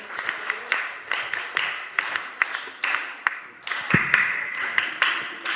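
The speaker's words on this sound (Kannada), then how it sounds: "ಭಜಕರು ಚಪ್ಪಾಳೆಯನ್ನು ನೀಡಿ ಇವರನ್ನು ಪ್ರೋತ್ಸಾಹಿಸಬೇಕಾಗಿ ಕೇಳಿಕೊಳ್ತಾ ಇದ್ದೇವೆ" Audience clapping at a felicitation ceremony during a bhajan event, a scattered, moderately loud round of applause with sharp individual claps, sustained throughout.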